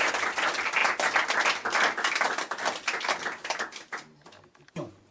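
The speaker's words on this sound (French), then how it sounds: "nous avons avec nous une foule admirative qui peut s'applaudir" An audience at a French religious broadcast applauds in a dense burst of clapping that stays steady for several seconds, then thins out into a few scattered claps and fades.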